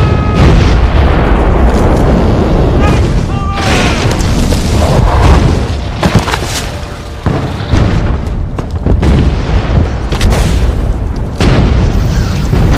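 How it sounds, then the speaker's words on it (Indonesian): An artillery barrage pounds a forest in the WWII battle at Bastogne, with loud, overlapping explosions and deep booms rolling continuously, some sharp bursts cracking through the rumble, with no voices. "Kemudian hujan artileri pun benar-benar menghancurkan hutan tersebut, membuat suasana semakin mencekam."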